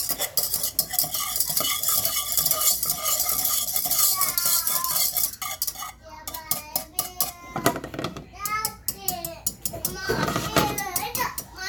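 Butter melting in a pan on the stove and being stirred with a utensil, giving steady scraping and clinking under a light sizzle, with a voice and other talk mixed in.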